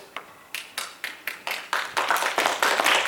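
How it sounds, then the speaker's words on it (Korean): A church congregation at a Sunday worship service claps to welcome newcomers. It starts as distinct, evenly spaced hand claps and then builds into dense, continuous applause that grows louder toward the end. "저희가 박수로 환영하겠습니다"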